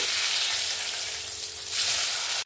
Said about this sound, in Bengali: মাছটা এখানে এক সাইড ভাজা হয়ে গেছে, আমি অপর সাইডটা উল্টে নেব।